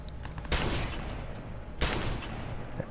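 Two sharp, loud gunshots ring out about a second apart in Watch Dogs on PS4, each a close, punchy blast with a short decaying tail over low game ambience.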